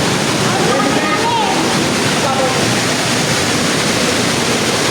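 An underground stream flows through a cave, a loud, dense and continuous rushing wash of water that fills the whole space, with faint voices over it.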